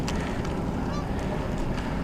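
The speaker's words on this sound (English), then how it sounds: "I see geese flying over me" Geese honk overhead at night above an empty, rundown parking lot, a few calls rising over steady dense road or wind noise.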